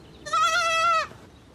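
A farm sheep gives a single clear, nasal bleat about a second long, close and loud against a quiet background.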